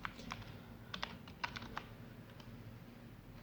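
A computer keyboard is typed on in a quiet room, a run of soft, close key taps in small uneven clusters over a low steady hum, with no talk.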